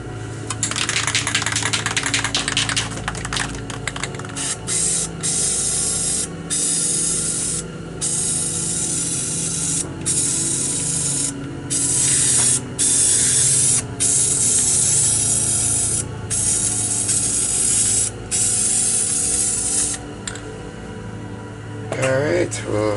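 Aerosol spray paint can hissing in bursts over poster board stencil art, with repeated short sprays separated by brief pauses, close and fairly loud, alongside light clattering.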